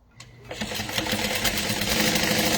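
A sewing machine runs a seam a quarter inch deeper on the pocket bag of a handmade wallet. It makes a steady, close, continuous whirring stitch with no talking.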